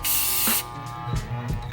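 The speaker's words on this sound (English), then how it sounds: "this is how I spray my clippers every time." A loud hissing aerosol spray bursts for about half a second onto Andis Master hair clippers, followed by quieter mechanical clicks and rattles nearby.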